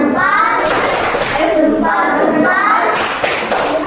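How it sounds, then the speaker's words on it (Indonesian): A school class gives a rhythmic salute clap, with short bursts of hand claps close by mixed with children's voices. "Ya tepuk salut buat Askar. Tepuk salut."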